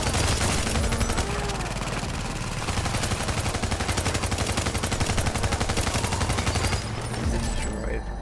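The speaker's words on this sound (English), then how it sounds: "I'm using a submachine gun right now." Submachine gun in The Division video game rattling off continuous rapid automatic bursts for about seven seconds, loud and close, with a brief pause near the end before firing resumes.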